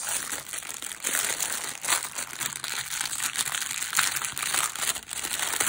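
Paper products and their packaging are handled up close during an AliExpress unboxing of washi tapes, stamps and ephemera, giving steady crinkling and rustling with small crunchy bursts and no talk.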